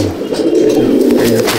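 Small Madrasi pigeons of an old breed coo at a pigeon sale in Bauria, Howrah: a close, continuous low throaty burbling that swells and rolls on, with no talk over it.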